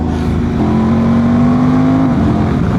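Honda Transalp 750 motorcycle with a remapped ECU revving hard, its engine note climbing steadily in pitch as it pulls through a gear, loud and close with constant wind and road roar underneath.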